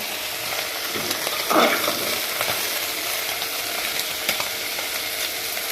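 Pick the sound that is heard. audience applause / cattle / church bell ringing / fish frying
fish frying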